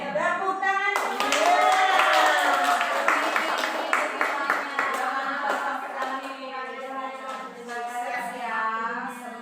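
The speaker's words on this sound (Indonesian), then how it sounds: "Tepuk tangan semua." An audience at a school education presentation breaks into clapping, steady and fairly close, blended with overlapping voices calling out and cheering throughout.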